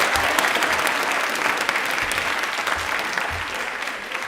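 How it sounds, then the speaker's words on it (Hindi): Steady, loud applause from a sizeable crowd at an Indian Railways quiz programme, sustained clapping without a break throughout. "ताली एक बार जोरदार हो जाए इनके लिए।"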